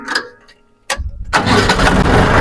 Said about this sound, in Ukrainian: Заводимо трактор.